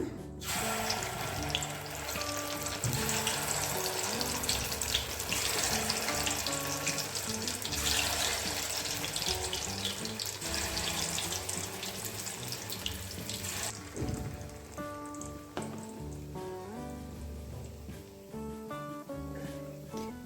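Jackfruit fritters fry in a pan over a low flame, giving a continuous, fairly close sizzle that is steady throughout and eases slightly near the end, with no voices.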